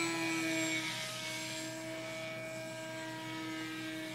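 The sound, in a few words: Skywalker Sirius model airplane motor in flight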